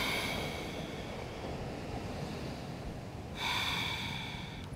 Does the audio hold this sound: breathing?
yes